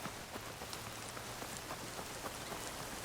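Steady rain falls in the video game Horizon Forbidden West, a soft, even patter of drops on surfaces that continues without a break, faint and ambient, with no talk.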